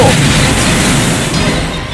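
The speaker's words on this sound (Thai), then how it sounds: "ปล่อยพลังสายฟ้า" Lightning power attack in the video game ARK, a loud crackling, booming burst that sustains across the moment and eases off slightly toward the end, alone without talk.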